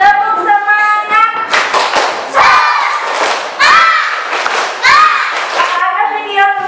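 A school class does a spirit clap, with several bursts of rhythmic group clapping mixed with excited children's shouts and chanting, loud and close throughout.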